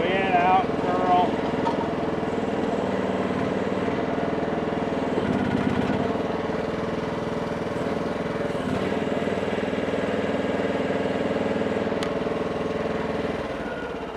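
A 2024 Groundhog ZH14G Pro mini excavator idles at close range with a steady droning engine throb that carries on throughout, while a person talks over it.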